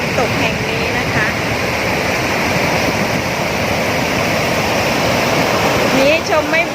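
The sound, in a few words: waterfall from reservoir overflow at Nikhom Kham Soi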